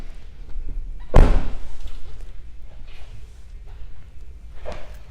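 The middle-row seat of a 2015 Cadillac Escalade tumbles forward with one loud, close thump, followed by softer clunks and rustling movement inside the cabin.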